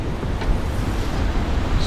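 Ocean waves crashing below a cliff on a stormy coast, a loud continuous roaring rumble of surf mixed with gusting wind buffeting the microphone.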